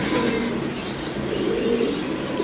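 Pigeons kept for sale with their chicks coo steadily and close by, low soft calls running throughout under a noisy, busy background with no talk.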